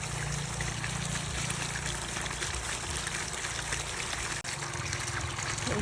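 Water trickles and streams steadily at an island home in Guimaras, Iloilo, Philippines, a continuous close, moderately loud rush with no talking over it.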